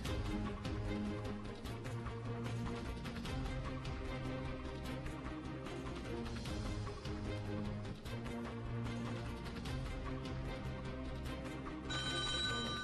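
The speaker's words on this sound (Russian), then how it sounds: "Есть звонок." A telephone rings with an incoming call during a live night call-in radio show, the ring sounding steadily over a dense bed of studio music that runs continuously throughout.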